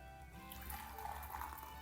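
Water poured into a pot of leek and potato soup, a soft, steady liquid splash and trickle, close and quiet, lasting under two seconds with no talk.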